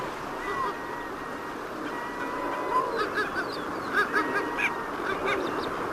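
Kelp geese browsing on rocks by coastal kelp beds in Chile give a scattered series of short honks and calls that grow busier toward the end, heard over a soft background wash.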